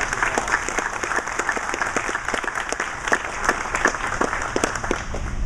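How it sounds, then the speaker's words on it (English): An indoor audience at Woodward Inc. gives steady applause, a dense patter of many clapping hands that holds at an even level for over five seconds. "I think we need to give him a round of applause"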